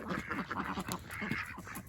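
Ducks rest together in the evening, giving soft, close, overlapping quacks and low chatter in a short continuous burst.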